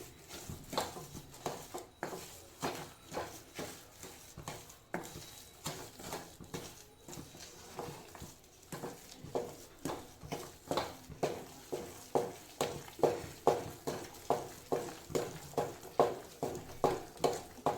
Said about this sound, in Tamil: இதை நல்லா மிக்ஸ் பண்ணி கொடுங்க.